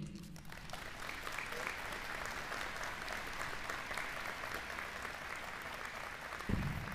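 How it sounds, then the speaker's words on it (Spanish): Steady audience applause fills a lecture hall welcoming the keynote speaker at a university conference on conscientious objection, holding at an even level throughout before a brief bump near the end. "para quien pido un caluroso aplauso de bienvenida"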